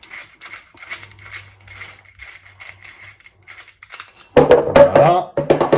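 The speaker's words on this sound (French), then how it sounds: "je vais prendre la grosse BTR, je vais retirer le gros écrou qui maintient l'ensemble culasse" A large nut holding the bolt assembly of a Pallas BA-15 .22LR rifle is unscrewed with a big hex key, producing a run of light ratcheting clicks, followed by a voice talking close by.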